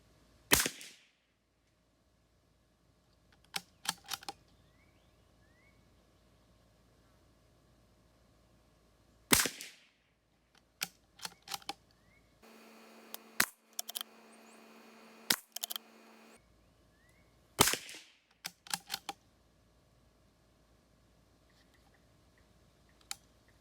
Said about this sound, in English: I'm gonna take 5 shots, see where they group, and then we'll go down range